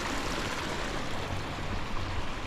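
Water flowing steadily through the drain hole of a garden pond, a continuous close wash of running water with no talk over it.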